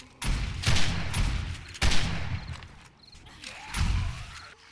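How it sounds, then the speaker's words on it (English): Heavy shotgun blasts against zombies in the video game 7 Days to Die, three or four loud close booms about a second apart, each with a rattling tail, and no talking. "I'm gonna get out my shotgun for this."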